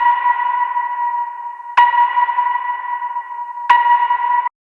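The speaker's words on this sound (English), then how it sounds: "It's just like a sine wave beep that pitches up." A steady electronic sine-wave tone with a reverberant tail, retriggered with a sharp click about every two seconds, three times in all, then cut off.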